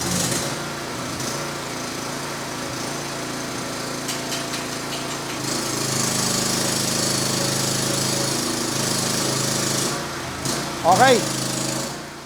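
An angle grinder being test-run, a steady high-pitched motor whine running throughout at moderate level, swelling louder midway, with a brief spoken word near the end.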